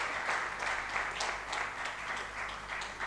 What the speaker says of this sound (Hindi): जोरदार तालियां बजनी चाहिए संत कबीरदास के नाम पर।